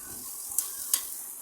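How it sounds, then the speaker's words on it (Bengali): Onions fry in a pan for aloo masala, a faint, steady sizzle broken by two brief sharp clinks or scrapes of stirring. "পেঁয়াজগুলো আমি লাল লাল করে ভাজবো এবং এর সাথে নুন আর হলুদ দেবো।"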